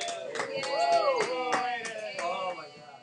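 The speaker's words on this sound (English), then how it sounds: "everybody give it up for Aiden." Applause in a classroom, brief scattered clapping from a group of students, mixed with cheering voices and chatter.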